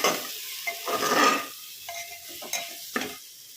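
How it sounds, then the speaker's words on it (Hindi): Potatoes and vegetables sautéing in a pan for aloo palak baingan mooli sabzi: short bursts of stirring and scraping over a light sizzle, close and intermittent, with pauses between strokes. "1 से 2 मिनट तक भूनेंगे"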